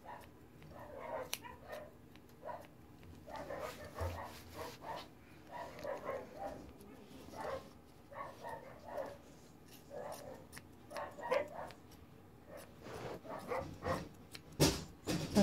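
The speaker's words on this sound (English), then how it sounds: "so we get to hear all the dogs bark." Several dogs barking indoors near an English Cocker puppy being trimmed, scattered yaps and barks at a moderate distance, irregular and overlapping, with faint rustling nearby.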